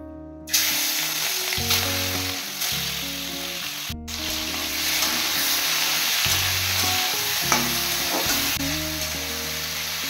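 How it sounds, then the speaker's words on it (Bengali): Shrimp fry in hot mustard oil in a wok, giving a steady, loud sizzle throughout with stirring clatter, alongside tonal music, and no one speaking. "এবার চিংড়ি মাছগুলো ভেজে নেব।"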